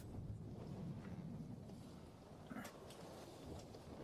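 Rain and wind at sea around a sailing ship, a low rumbling wash with steady hiss and occasional faint creaks, no voices.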